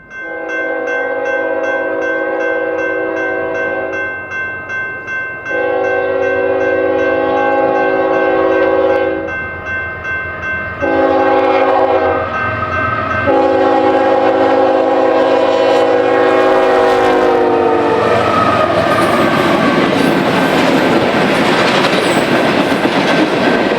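A southbound Union Pacific manifest freight led by three GEVO locomotives and an SD70ACE sounds long, loud horn blasts in a repeating pattern, then rumbles past close by with a building roar of wheels and engines.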